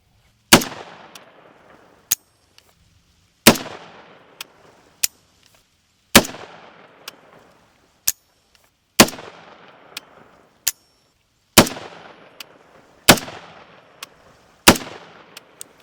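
Loud, sharp rifle shots from a suppressed Warthog 7.62 rifle on an AB Suppressors can, fired on a gas setting test: repeated reports in quick pairs and triples with short gaps between them, each cracking hard and decaying with a brief ringing tail.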